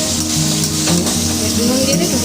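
Meat frying in a pan, a steady dense sizzle close up, with a faint underlying hum and bits of tonal background sound beneath it.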